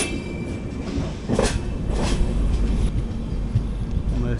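Inside an LHB AC chair car of the 22616 Coimbatore–Tirupati Intercity Express, the running train gives a steady low rumble with faint wheel clatter and a brief squeal, heard from within the coach.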